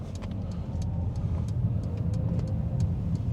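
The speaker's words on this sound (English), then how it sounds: "easing on the brake, clutch down, and I'm gonna go in the first gear because it's quite a blind roundabout" A car with a manual gearbox pulls away in first gear at a blind roundabout in Glasgow, its engine a steady mid-pitched hum with road rumble, close and continuous.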